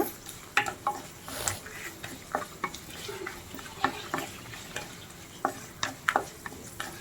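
Quiet sizzling of chopped ridge gourd peel pieces frying in a pan, broken by repeated sharp scrapes and taps of a spoon stirring, irregular and close.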